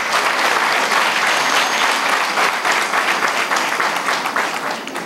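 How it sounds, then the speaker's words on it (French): Sustained, dense applause from a large crowd at a Bloc Républicain political rally in Parakou, cheering a presidential candidate; loud, steady clapping filling the whole stretch and easing slightly toward the end. "Je vous demande d'applaudir plus fortement notre candidat."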